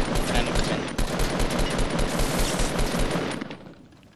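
Rapid automatic assault rifle fire in the Fortnite battle royale game, dense rattling bursts running almost continuously and loud, easing off near the end, with players talking over it.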